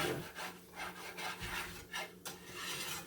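A whisk beats through a bowl of meatloaf mixture in quick rhythmic scraping strokes, close and steady, with a light tap near the end and no voices.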